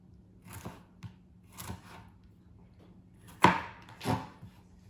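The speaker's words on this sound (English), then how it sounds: "we're gonna cut them up small" A knife chops food into small pieces on a board, about six separate cuts at an uneven pace, close and clear against a quiet background, the fourth stroke the sharpest.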